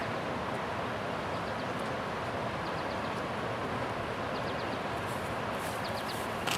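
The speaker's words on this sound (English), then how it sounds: "I hear a train in the background." A low, steady rumble of a train rolls on in the distance near a river in Richmond, Virginia, faint and continuous, with occasional high faint clicks on top.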